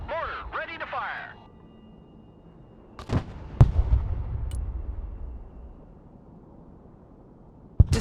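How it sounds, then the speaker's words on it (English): Mortars fire in the Broken Arrow video game: after a short radio-filtered voice, sharp launch thumps and a rumbling blast ring out, followed by a quiet lull and a final crack. "The mortars are waiting for a fire mission order to destroy the targets. Mortar, ready to fire."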